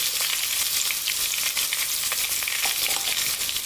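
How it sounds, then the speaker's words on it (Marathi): Asafoetida frying in oil over a medium flame gives a loud, even, close-up sizzle with fine crackling and faint stirring throughout. "यामध्ये मी थोडासा अगदी हिंग टाकणार आहे"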